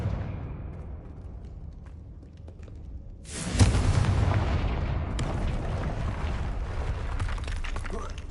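A Confringo explosion spell cast in the Hogwarts Legacy video game: a sudden loud blast erupts midway, followed by a sustained, heavy roaring rumble after a quieter stretch.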